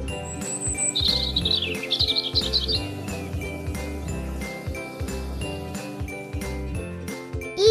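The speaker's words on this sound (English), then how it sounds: "Robin." A robin sings a few bright chirping phrases near the start, set over steady, tinkling background music that carries on to the end.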